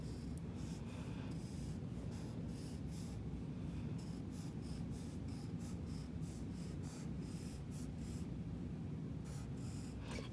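A pen or marker draws on paper with a continuous scratchy rubbing and short repeated strokes while sketching cityscape buildings, close and quiet with no voices.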